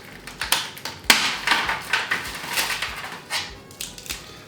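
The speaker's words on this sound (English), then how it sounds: "I'm just going to break up the caramel into small pieces as I can" Hardened caramel with cooled nuts being broken into small pieces by hand in a kitchen, giving a run of sharp, close cracks and brittle crunching snaps at an uneven rhythm, loud and alone.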